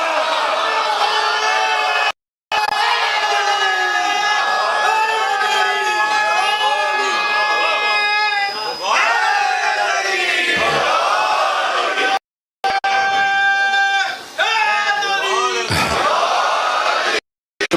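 Large crowd at a Shia majlis in Canada loudly chanting religious slogans, many voices overlapping in rising bursts with brief silent gaps between waves of shouting.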